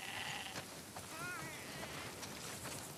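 A sheep bleats in The Last of Us Part II video game, a short wavering cry in the middle of steady rain-like background noise, with no talking.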